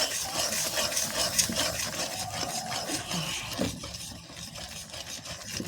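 Lentils (dal) fry and get stirred in a pan, giving a continuous dense sizzle with scraping and rubbing strokes from the utensil throughout.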